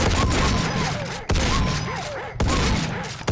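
Heavy gunfire in Brutal Doom II: three loud bursts of rapid shots, each abruptly cut off, with trailing whines and thuds in the game's Wolfenstein map.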